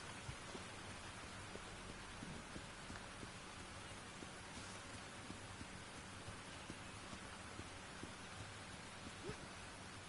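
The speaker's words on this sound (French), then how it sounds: "Ça rend un peu triste finalement la pluie." Steady rain falls in the video game Tchia, a soft, even wash of drizzle that holds unbroken and fairly faint for the whole stretch, with no talking.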